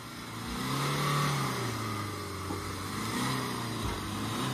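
A Mahindra Marazzo engine revs while the car is stuck in mud, a sustained mid-pitched drone rising and easing in long waves, fairly close and loud with no talk.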